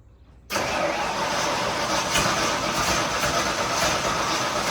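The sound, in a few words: 1982 Ford Bronco engine running with custom exhaust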